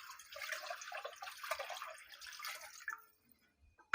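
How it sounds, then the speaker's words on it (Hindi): Water poured from a jug into a cooking pot holding kadhi batter, a quiet splashing stream lasting about three seconds before it stops, then a brief knock at the end. "1 लीटर बैटर डालने के बाद हंडिया में अब हम लोग इसमें 1 लीटर पानी डाल देंगे एक्स्ट्रा, उसी जग में से"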